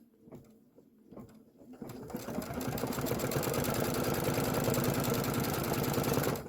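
A sewing machine stitching a leftover fabric piece for a Kimberbell Main Street Celebration farmhouse project: a few soft taps and handling noises at first, then the motor runs up into a fast, steady, loud mechanical chatter that continues to the end.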